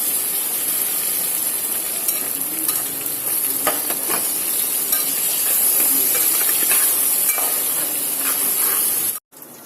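Banana curry with garlic and salt being stirred in a hot pan, a steady close sizzle and frying hiss with scraping stirs throughout, cutting off abruptly near the end.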